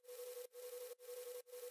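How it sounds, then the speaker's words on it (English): A sustained tonal noise drone in a dance-track mix, acting as a root note. It is a steady pitched hum with airy noise on top, heard alone and cut into four even pulses by short gaps. "Now I have this tonal noise"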